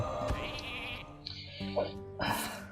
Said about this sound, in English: Okay, they're gonna turn him into a sheep.